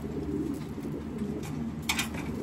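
A racing pigeon that survived a hawk attack during a 250-mile race gives soft, low repeated coos over a steady, close background murmur.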